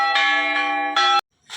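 A church bell rings loudly and close by, its sustained metallic tone struck again partway through, then cut off abruptly, leaving a faint hiss.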